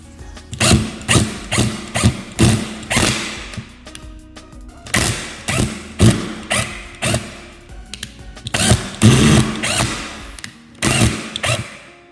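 A Hyper Tough 20V Max cordless impact driver fires in rapid repeated bursts, loud and close, with short pauses between runs of hammering impacts.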